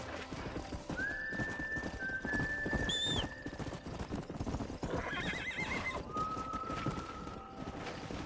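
In the Red Dead Redemption video game, horses clip-clop along and whinny, with steady hoofbeats, a high rising neigh and a shrill tonal call over a busy outdoor game soundscape.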